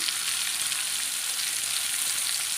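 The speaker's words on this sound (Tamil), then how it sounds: "நான் இந்த மீனை வந்து வறுத்து காமிச்சிட்ருக்கேன்" Vela meen fish frying in a pan, giving a steady, dense hiss and sizzle that holds evenly throughout, close and fairly loud with no voices.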